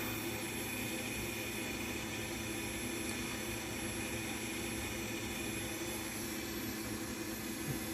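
A stock fuel pump runs at a factory 13.5 volts, producing a steady, even high-pitched whir with a constant hum beneath, unchanging throughout and heard alone.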